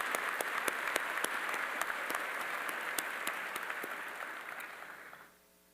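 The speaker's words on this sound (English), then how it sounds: "Please, just a round of applause for all the leadership of the military department." Audience applause at a joint military commissioning ceremony honoring the military department's leadership, steady clapping with distinct individual claps, then stopping abruptly near the end.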